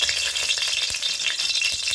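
Refined white oil sizzles steadily as a small amount is swirled around a hot kadai before frying lentil fritters, a continuous close hiss with faint scraping ticks.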